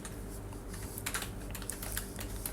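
Typing on a computer keyboard, a quick irregular run of soft key clicks at close range over a low steady room hum, without talking.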